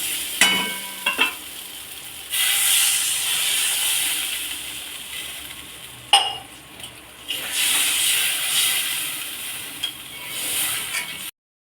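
Water is poured into hot spice paste frying in oil for a prawn and poached-egg curry, setting off a loud, steady steam hiss and sizzle. The hiss swells in bursts and holds for several seconds, up close and with no talk.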